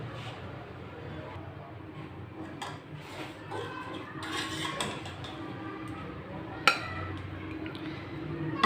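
Cooked desi basmati jangli pulao rice is spooned out of a pot, with soft scattered clinks and scrapes of the spoon against the metal rim, quiet and close in a home kitchen.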